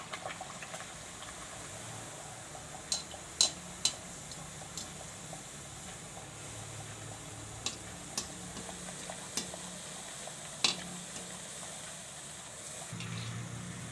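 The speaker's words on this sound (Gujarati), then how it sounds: "આપણે એક એક નાખીને તળશું એટલે સરસ તળાય" Puris made from bajra (pearl millet) flour fry in hot oil, slipped in one at a time, giving a steady, fairly faint sizzle broken by a few sharp clicks and ticks, with no talking.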